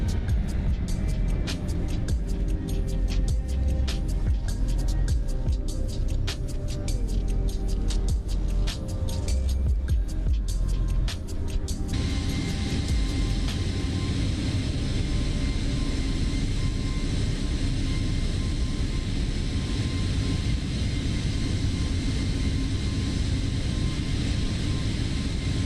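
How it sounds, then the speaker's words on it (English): Simulated aircraft engine drone in Microsoft Flight Simulator during a flyby view, a steady loud roar throughout, rougher with crackling detail for the first dozen seconds, then a smoother, broader continuous rush, no voices. "Oh, another flyby view by the looks of it."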